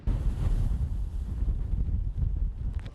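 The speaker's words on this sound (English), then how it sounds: "Strong winds in Scituate, Massachusetts are creating spectacular waves" Strong storm winds buffet the microphone with heavy, roaring gusts over crashing surf on the coast at Scituate, Massachusetts, loud and continuous.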